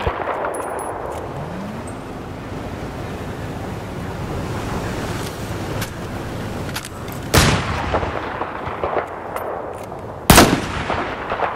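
Battlefield 4 gunfire on a multiplayer battlefield: two sharp, loud shots about three seconds apart cut through a steady bed of wind-like ambient rumble, with no talking.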